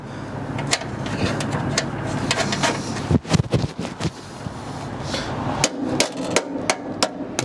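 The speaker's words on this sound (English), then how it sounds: "See, I even used my Milwaukee M12 ratchet as a hammer." Milwaukee M12 ratchet used as a hammer on a snow blower auger, a run of sharp metallic knocks in irregular bursts, some rapid clusters, close and loud.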